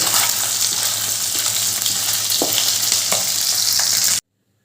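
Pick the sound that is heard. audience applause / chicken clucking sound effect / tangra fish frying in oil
tangra fish frying in oil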